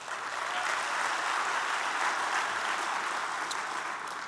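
Audience applauding at the San Diego State of the City address, a steady, dense wash of clapping from a large crowd in a hall, sustained throughout at moderate distance.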